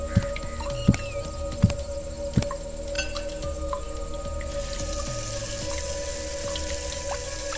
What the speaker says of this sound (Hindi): उसने अपना चेहरा धोया